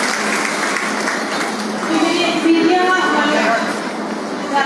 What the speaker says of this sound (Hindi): जोरदार तालियां बजा के बहन गीता भुक्कल जी का स्वागत करें